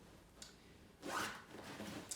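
A zipper on the downproof ticking cover of a feather-filled throw pillow is drawn open in one close, quiet rasping pull, followed by soft rubbing of the fabric.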